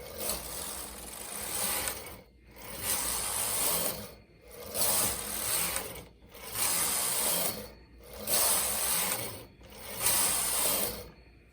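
A knitting machine works jersey fabric in six sweeping passes of mechanical ratcheting and rubbing, each about two seconds long with brief pauses between. The sound is close and clear, with no talking.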